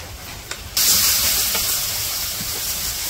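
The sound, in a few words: shrimp sizzling as added to hot wok with onions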